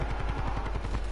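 Rapid gunfire in Call of Duty Black Ops 4 Blackout, a steady stream of closely spaced shots hitting the player, loud and continuous with no talk over it.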